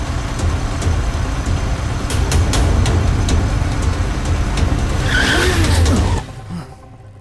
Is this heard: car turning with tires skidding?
yes